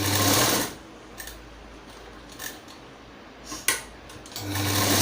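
A sewing machine stitches along two sides of a folded fabric piece for a designer top, running loud in steady bursts at the start and end with a quieter pause between.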